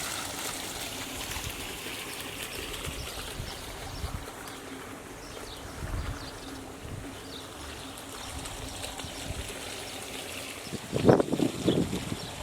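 A garden water feature in a tropical garden trickles steadily in the background, with birdsong and a brief rustle or bump near the end; no one speaks.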